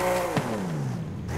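A Jaguar XJ13 engine with upgraded exhaust in Forza Horizon 5 revs up briefly, then its tone slides down in a smooth, throaty drone as it settles.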